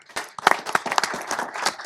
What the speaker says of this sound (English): A warm round of applause for Etimbuk Bassey.